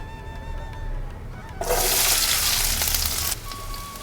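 Onion frying in ghee in a kadai, a loud close hiss and sizzle that swells sharply partway through and stays steady, then eases slightly near the end.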